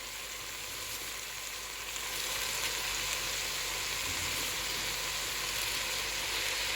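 Carrots and cabbage fry in a pan for egg fried rice, giving a steady, close hiss of sizzling that grows slightly louder partway through and continues with no talking.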